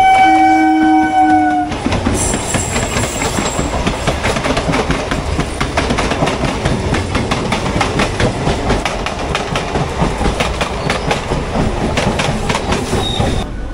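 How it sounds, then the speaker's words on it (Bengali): A train pulls into Bandel station with a loud, steady rumble and rattling wheels throughout, and a horn-like tone sounds at the very start. "আর ট্রেন আরেকটা ঢুকছে এদিকে।"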